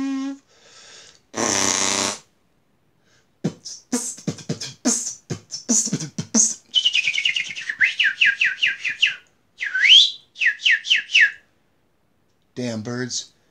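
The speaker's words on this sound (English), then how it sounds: "Damn birds, give me that 12 gauge." Bird calls in short bursts of chirps and whistled notes, some rising and sweeping, with a few brief noisy squawks, close and clear against silence, no talking.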